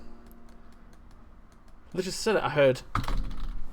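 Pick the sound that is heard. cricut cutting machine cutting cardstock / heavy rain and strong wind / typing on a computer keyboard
typing on a computer keyboard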